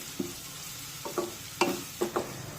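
Ginger-garlic paste sautéed with onions for besan bhurji, a low sizzle under several scraping spatula strokes against the pan in uneven bursts, close up with no talking.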